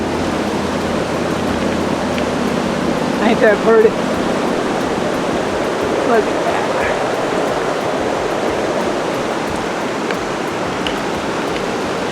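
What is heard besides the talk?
water rushing down from Garrison Springs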